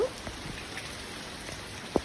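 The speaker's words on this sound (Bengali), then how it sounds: "আজকে প্রচুর বৃষ্টি" Heavy rain falls with a steady, fairly faint patter and a few sharper drops standing out, with no voices over it.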